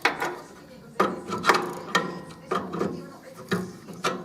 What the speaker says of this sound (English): undo the actual pipe supplying the reservoir